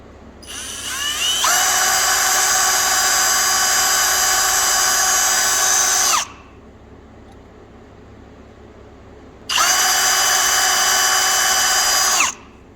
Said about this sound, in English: I can take the drill bit of appropriate size and pre-drill the holes for